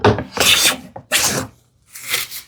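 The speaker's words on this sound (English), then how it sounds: "flip it and take a few shavings from this end" A hand plane pulls shavings off the end of a wooden piece for a desktop organizer, three close, crisp hissing strokes with brief gaps between them.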